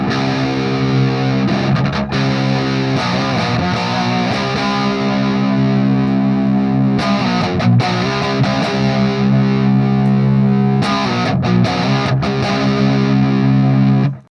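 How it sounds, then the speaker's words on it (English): An electric guitar through a Ceriatone AH50 amp plays a crunchy distorted tone, ringing chords and picked notes sustaining loud and close, with brief strums and pauses between phrases before it cuts off. "So there's the basic kind of crunch distortion tone that we had last time"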